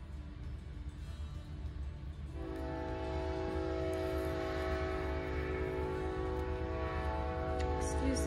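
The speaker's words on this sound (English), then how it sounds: "Excuse the train." A passing train rumbles steadily and then sounds a long, sustained horn that holds for several seconds, loud and fairly near over a constant low roar, with no talk.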